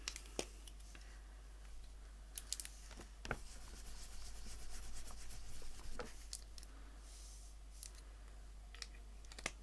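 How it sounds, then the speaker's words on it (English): Soft pastel rubbed over paper to blend colour, a faint dry scuffing hiss with a few sharper clicks and taps scattered through, close and quiet with no talk. "Let's just blend that a little bit more. And you don't want to rub too much because you lose your colour"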